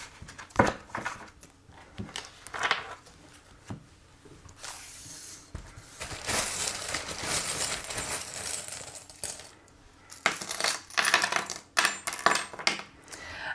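Small tarot charms clatter and jingle as they are cast onto a surface for a reading, bursts of light metallic clinks and rustles coming in irregular clusters, close and moderately loud, with quieter pauses between throws.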